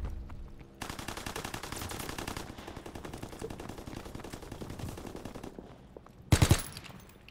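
Rapid automatic gunfire from the video game Call of Duty: WWII rattles almost without pause for several seconds. A louder close burst of shots follows near the end.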